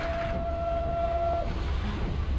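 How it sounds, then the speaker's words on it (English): A steady, high train whistle in Microsoft Train Simulator sounds for about a second and a half over a rumbling engine, then cuts off, leaving the low mechanical drone. "I want to do the whistle manually"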